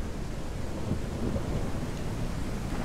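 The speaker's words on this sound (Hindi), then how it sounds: "एक दिन में तीसरी बार बारिश आ रही है आज" Steady rain with low rumbling thunder in the Ranch Simulator game, a continuous broadband wash with a deep rolling swell in the middle and no talk over it.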